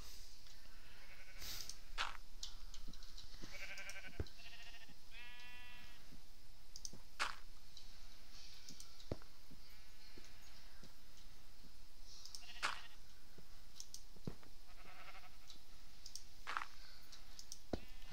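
Sheep bleat in short wavering calls from a video game, repeating every few seconds amid sharp clicks under a steady background hum.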